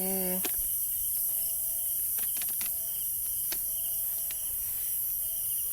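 Grasshoppers chirping at night in a backyard, steady thin insect trills over a constant background hum, with brief clicks and tones, close and fairly clear, no talking.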